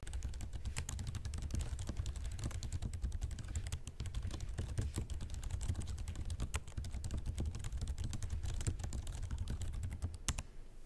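Continuous fast typing on the keyboard of an ASUS ROG Strix Scar 18 gaming laptop, a dense patter of soft, quiet key presses heard close up with no talking.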